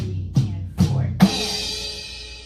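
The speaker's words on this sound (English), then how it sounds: "he's going back to just the snare and crash 1 time on the and of 4." Three hits on a drum kit: two snare strokes followed by a snare with a crash cymbal whose shimmer rings out and slowly decays, played close and alone at a slow beginner's pace for a song.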